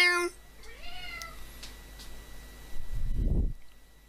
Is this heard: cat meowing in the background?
yes